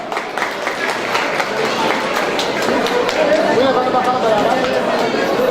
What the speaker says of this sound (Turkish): Bir alkış da Hatay alalım değerli dostlar